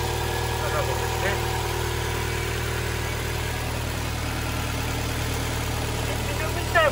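A used 2.0-litre Subaru Impreza WRX STI 4WD with 91,000 km idles steadily with a low, even hum, while someone speaks over the engine.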